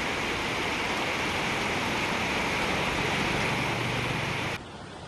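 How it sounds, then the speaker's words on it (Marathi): Heavy rain pours in Pune city with a dense, steady hiss that continues unbroken and then drops slightly in level near the end. No voices are heard. "पुण्यामध्ये जोरदार पावसाला सुरुवात झालेली आहे"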